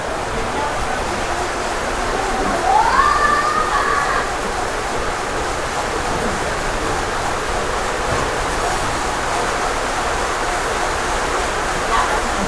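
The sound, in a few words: heavy rain of a super typhoon drumming on the roof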